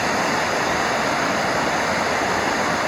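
A massive waterfall on a Chattahoochee River tributary roars in a dense, unbroken wash of rushing water, loud and close, with no voices.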